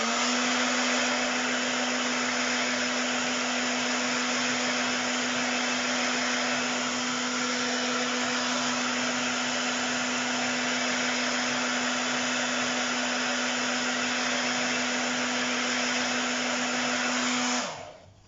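Hair dryer blowing steadily on balloon art, a loud constant whirring roar with a fixed motor hum that runs unbroken for about seventeen seconds before cutting off abruptly.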